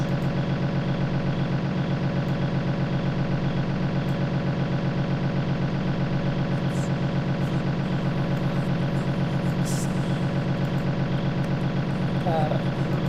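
A vehicle engine idles in a VRChat roleplay, a loud, steady drone with a continuous low hum that holds unchanged throughout.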